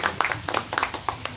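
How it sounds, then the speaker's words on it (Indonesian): Applause from a webinar audience for two presenters, a brief burst of scattered clapping of moderate loudness with several sharp individual claps standing out. "Sekali lagi tepuk tangan buat mereka berdua ya"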